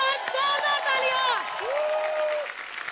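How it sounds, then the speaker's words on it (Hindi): Studio audience on the set of The Kapil Sharma Show bursts into loud, sustained applause with cheering and whoops, a dense crowd roar over which voices shout and a singing-like call rises. "यार एक बार जोरदार तालियां"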